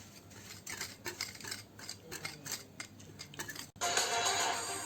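Ghee and powdered sugar are whisked together in a bowl, heard as quick repeated scraping strokes close up. The strokes come in an uneven rhythm, then give way to a louder, duller rustle near the end, with no talking.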